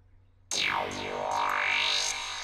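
A psytrance synth pad from Serum swells in abruptly and sustains, washed in bright reverb with ping-pong delay sweeps bouncing across it.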